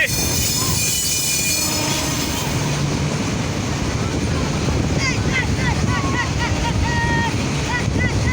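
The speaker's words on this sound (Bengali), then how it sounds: "লালমনিরহাট তিরিশ পঁচিশ লোকোমোটিভ নিয়ে লং রুটে চলাচল করতেছে" A train hauled by locomotive 3025 rumbles past close by near Ibrahimabad railway station, wheels clattering steadily on the rails with high metallic squeals, while a voice talks over the noise.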